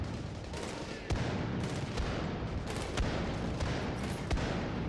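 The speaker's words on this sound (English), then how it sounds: "There's somebody shooting." Scattered gunshots in the shooter game Medal of Honor Warfighter, sharp cracks popping irregularly at moderate distance over a dense, rumbling battlefield din.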